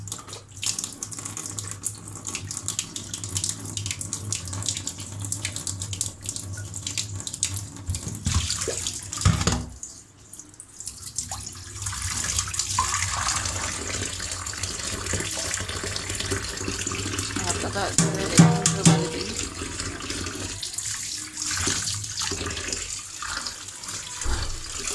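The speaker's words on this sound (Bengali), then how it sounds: "এখন আমি এরকম সুন্দর করে ধুয়ে নেবো কয়েকবার" Jackfruit seeds are rinsed by hand under a running kitchen tap. Water splashes steadily and close into the sink for about twenty-five seconds, broken by one short pause, with no talking.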